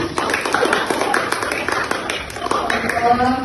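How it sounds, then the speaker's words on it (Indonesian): Classroom pupils clapping together for a classmate's correct answer during a teaching session, a quick burst of close, uneven hand claps with voices mixed in. "Silakan beri tepuk tangan"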